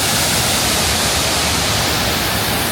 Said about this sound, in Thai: เป็นน้ำที่อยู่ทางด้านบนนะครับแล้วก็มันก็จะไหลตกลงมาตรงนี้